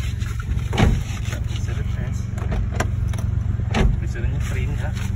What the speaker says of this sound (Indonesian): jadi kita ketes dulu mobilnya ya. Test drive, test drive